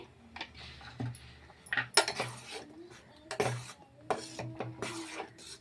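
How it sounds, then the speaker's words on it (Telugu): A spoon stirs sheer kurma, a Ramzan vermicelli dessert enriched with ghee, in a cooking pot, giving repeated light metallic clinks and scrapes that come close and fairly soft in a loose, uneven rhythm. "అండ్ మొత్తం కూడా ఇలా కలుపుకుంటూ కొద్దిసేపు ఉడకనిస్తే సరిపోద్ది."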